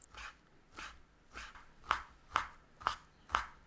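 A knife slices a cooled thin egg crepe into fine shreds on a board: a steady series of about seven soft, regular cutting taps, close but fairly quiet, with no voices.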